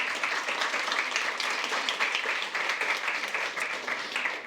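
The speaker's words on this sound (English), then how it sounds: "Give her a big applause" Sustained applause from a symposium audience fills the room, a dense, steady patter of many hands clapping at even loudness from start to finish with no voices over it.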